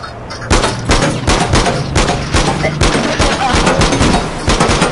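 Dense, sustained gunfire from the online shooter APB, with rapid automatic bursts and overlapping shots hammering loudly throughout, while a voice talks over the shooting.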